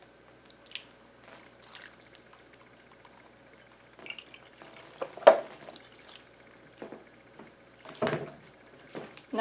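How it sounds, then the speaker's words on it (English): A spice mixture for sweet and spicy pepperettes, with coriander, garlic powder and half a cup of water, being stirred and mixed, giving soft wet squishing and scraping bursts at irregular intervals, fairly quiet and close. "Now I'm going to start mixing this up"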